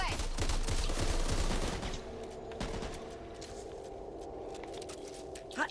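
Rapid gunfire bursts from the video game Back 4 Blood, loud and dense at first, then thinning to scattered single shots and thuds with footsteps.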